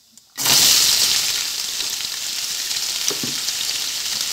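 Finely chopped onions hit hot oil with cumin and whole spices, bursting into a loud close sizzle that settles into a steady frying hiss with a few soft stirring knocks.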